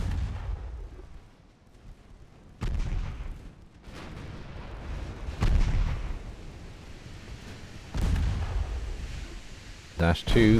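Torpedo hits explode against a warship in the naval battle game Ultimate Admiral: Dreadnoughts, several heavy booming blasts landing in irregular succession over a low rumbling sea-battle backdrop, with a voice talking over them.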